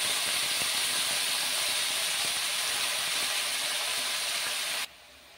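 Mixed vegetables and onions fry in a pan with a loud, even hiss that holds steady for about five seconds before dropping off sharply.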